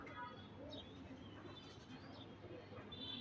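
A domestic pigeon, a male bird held in the hand, gives soft low cooing through a steady background hum, close but faint, with murmured voices nearby.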